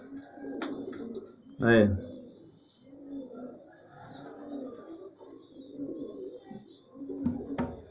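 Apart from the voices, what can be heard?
pigeons cooing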